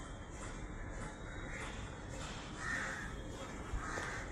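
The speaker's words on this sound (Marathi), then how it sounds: "आणि हा कावळा बघा कसा ओरडतो." A crow caws among trees outdoors, a few harsh calls at moderate distance over a steady background hum.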